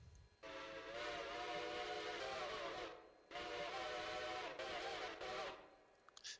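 A locomotive steam whistle in the Railroader video game sounds in two loud, sustained chime blasts of about two and a half seconds each, separated by a short gap, with a brief trailing toot at the end.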